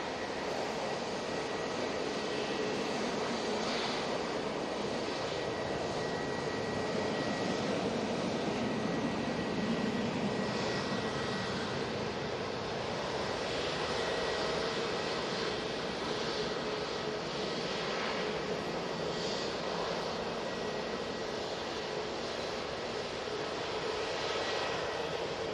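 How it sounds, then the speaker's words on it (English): A Singapore Airlines Airbus A350-900 arriving from Singapore Changi lands at Manchester Airport, its engines a loud, steady broadband roar that holds for the whole stretch with no voices. "Singapore A350-900 now coming in from Singapore Changi Airport."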